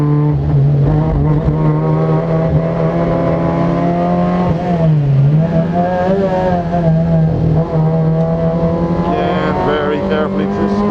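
A Fiat racing car on a track holds a steady, loud engine drone whose pitch dips and climbs again as the driver lifts and accelerates through a corner.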